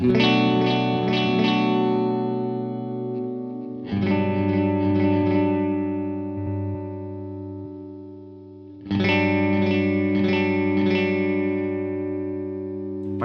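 An electric guitar played through a Line 6 POD GO special delay effect rings out in strummed chords with rapid, shimmering repeats that cascade and trail off, then the pattern starts again.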